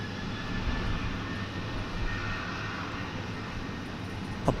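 An American Airlines Airbus A321 jet on runway 36 right at DFW Airport gives off a steady, moderately distant engine roar that holds level throughout.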